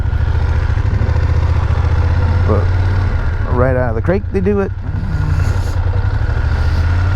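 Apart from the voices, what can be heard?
BMW F800GS motorcycle engine running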